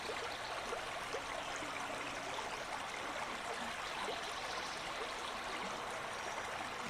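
Water flows in a steady, soft, even rush, faint and continuous throughout with no talking.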